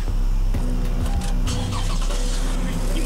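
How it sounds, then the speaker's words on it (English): A car engine cranks and catches, settling into a loud steady idle with a brief dip partway through. "I'm gonna start the car"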